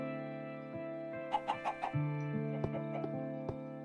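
A blocky Minecraft chicken clucks in short, soft bursts over a steady droning game soundtrack, a few quick clucks close together and then scattered single ones.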